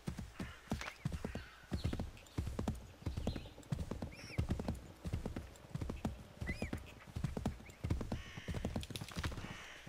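A horse galloping in the video game Assassin's Creed 3; a steady, rhythmic clip-clop of hooves with faint whinnies and bird calls over an outdoor ambience, fairly quiet and with no talk.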